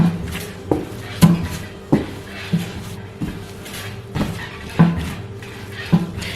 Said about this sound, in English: I'm gonna knead it for a little while just to remove air from it